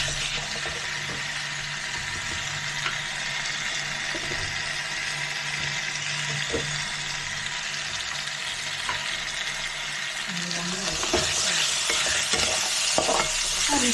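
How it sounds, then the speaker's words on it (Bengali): Ginger and spices sautéed in a pan for a prawn and banana flower dish, a continuous close sizzle with occasional spatula scrapes that grow busier and louder near the end, with no voices. "এটা দিয়ে কষা হবে, একটু কষে নিয়ে আদার গন্ধ চলে গেলে"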